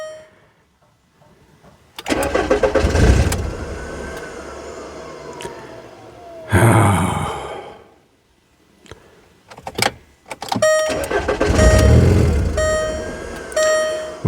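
A 2002 VW Beetle with a start/stall fault is cranked with the key; its engine catches and runs loudly for a few seconds, falls quiet, then cranks and runs again with chimes and clicks mixed in.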